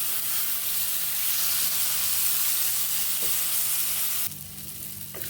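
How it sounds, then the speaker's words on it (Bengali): Fried rice grains, raisins and masala sizzle loudly in a hot pan while being stir-fried for a Bengali banana-flower dish, a steady hissing fry with occasional scraping stirs and a sudden hiss burst near the end. "এবার এই যে ভেজে রাখা চালটা এটা দিয়ে দিলাম কয়েকটা কিশমিশ দিয়ে দিলাম দিয়ে আবার ভালো করে কষিয়ে নেব"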